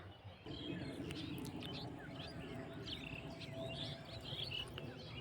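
Many birds chirping outdoors at dawn near water where an egret fishes, a faint, busy chorus of overlapping tweets and calls over a low steady background.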